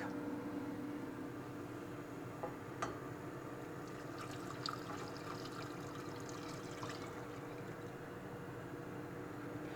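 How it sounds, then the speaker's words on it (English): Beef stock pours into a hot pan, a soft continuous liquid rush with faint bubbling and a few light clinks, quiet and close, without talk. "now we can add 2 cups of beef stock"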